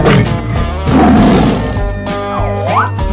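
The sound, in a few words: tiger roaring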